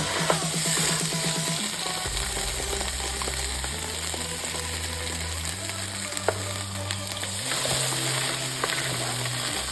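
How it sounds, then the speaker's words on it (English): Pureed pumpkin poured into a pan of cooked garlic, with steady loud sizzling and frying crackle throughout, accompanied by a low continuous hum from nearby kitchen equipment. "now that the garlic is cooked, we're just gonna add our pureed pumpkin"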